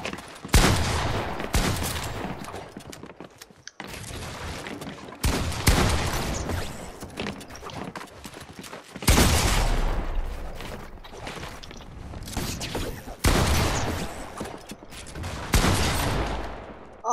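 Rapid, dense bursts of gunfire from the video game Fortnite come in several long clusters separated by brief gaps, loud and up close.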